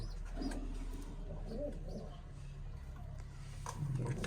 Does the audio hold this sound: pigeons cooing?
yes